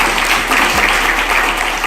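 An audience at a government scheme awareness event in Haliyal claps steadily, a dense sustained patter of many hands at moderate loudness.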